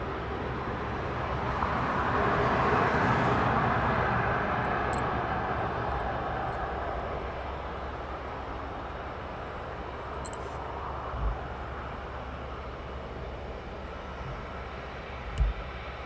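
West Atlantic aircraft taxiing at East Midlands Airport at night, a faint distant engine rumble that swells then slowly fades, with a couple of brief thumps.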